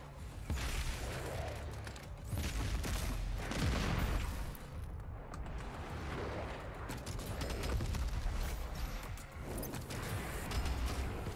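Gunfire in DOOM Eternal aimed at explosive barrels: repeated shots and heavy bursts with booming impacts, clustered in rough waves over a dense, noisy game backdrop.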